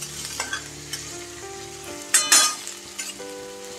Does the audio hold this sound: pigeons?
no